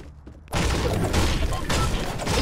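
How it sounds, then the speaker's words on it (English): Dense burst of gunfire in the video game Fortnite starts abruptly after a quiet half second, a loud sustained fusillade of overlapping shots and booms continuing to the end. "I hear gunfire."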